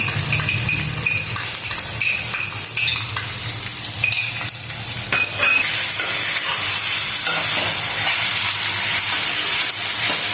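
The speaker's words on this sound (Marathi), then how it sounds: "कांदा मिरची लसूण सब एकदम छान व्यवस्थित लाल झालेला आहे।" Chopped onion, green chili and garlic frying in a pan, a loud continuous sizzle with clinking spatula stirs and scrapes in the first half, then a denser, even hiss.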